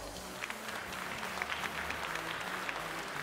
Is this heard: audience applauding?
yes